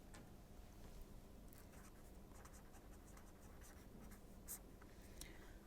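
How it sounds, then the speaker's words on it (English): A pen writes a note by hand during a maths lesson: soft continuous scratchy strokes with brief ticks, faint and close, over a steady background hiss, with no talking. "Let me just write it as a remark."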